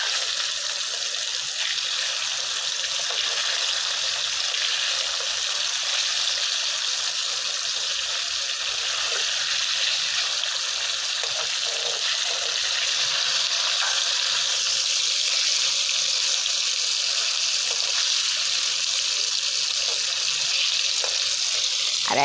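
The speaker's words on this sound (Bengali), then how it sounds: "লোট পালট করে নেব, একটু হালকা নাড়বো, এর বেশি নাড়বো না" Hilsa fish frying in a pan with a steady bright sizzle, given only light, gentle stirring; the hiss stays broad and continuous throughout with no talking.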